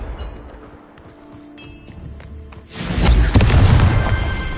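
Confringo spell blast in the video game Hogwarts Legacy: after a quiet stretch of faint ambience, a heavy booming explosion erupts and rumbles on loudly, deep and close.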